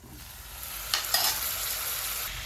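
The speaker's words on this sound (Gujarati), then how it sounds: "મસાલો ચોટી જાય ને ત્યાં સુધી એને આપણે ઘડી કકડાવવાનું છે" Drumstick pods stirred and fried in a pan of spiced masala make a steady close sizzle, with a couple of sharper scraping stirs partway through and no talking.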